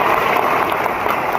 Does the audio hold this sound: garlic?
no